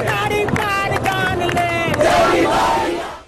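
A crowd of students at a protest against the citizenship law chants slogans in rhythmic bursts, loud massed voices rising together and sustained throughout.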